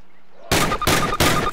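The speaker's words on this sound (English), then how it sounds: "Fire 3 more rounds at your target." Three rifle shots fired at a target on a Call of Duty training range, sharp loud reports spaced evenly after a short silence, each one ringing briefly before the next.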